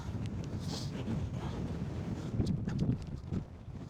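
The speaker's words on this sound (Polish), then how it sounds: "Strasznie wieje." Strong wind buffets a hilltop on the Great Sugar Loaf, roaring continuously into the microphone with gusty surges and low rumbling, loud and steady throughout with no talk.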